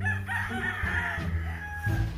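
On a simple farm, chickens and a rooster cluck and crow nearby in a short, busy stretch of overlapping calls.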